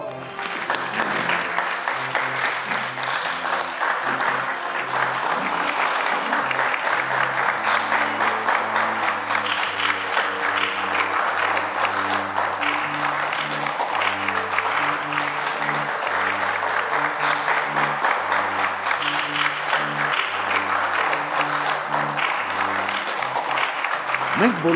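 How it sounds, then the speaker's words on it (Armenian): Loud, sustained applause from a wedding crowd greets the bride and groom, steady and dense throughout with music playing underneath and some voices mixed in. "իսկ Հարսիկն ու Փեսան կգան միայն բարձր ծափերի ներքո"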